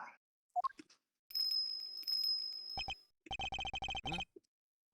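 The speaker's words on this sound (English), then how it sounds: "What's that tinkling sound?" A bright, sustained ringing bell chimes in the Ace Attorney Investigations 2 video game, followed by a quick series of clipped blips in a steady run, clear and alone against silence.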